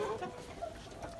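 Hens clucking in a barn at morning feeding time, a short stretch of soft, overlapping fowl chatter held at a steady low level with no speech.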